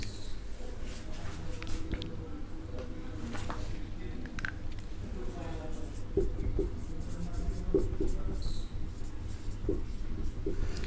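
Chalk or marker scratches on a board during a highway engineering lecture, with faint intermittent writing strokes under steady room noise and quiet talking.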